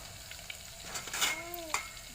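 Garlic and three green chilies sizzle and fry in hot oil in a home kitchen, a steady close crackle with a few sharper spatters and stirring scrapes, heard alone without talk.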